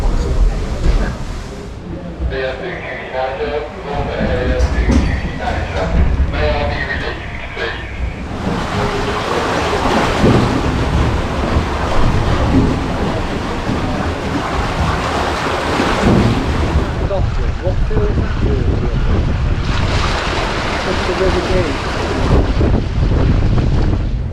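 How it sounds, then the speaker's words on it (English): Water pumped by steam beam engines, a ton a stroke, rushes and churns steadily down a leat, a loud broad roar with gusty noise, continuing throughout with a few faint voices early on. "there's the water that these great engines are pumping, 1 ton a stroke, going down the leat"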